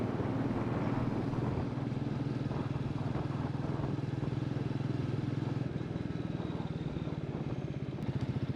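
Off-road motorcycle ride through a village: a loud, continuous engine drone with steady low rumble and rattling clatter runs throughout, close and unbroken, with no talking over it.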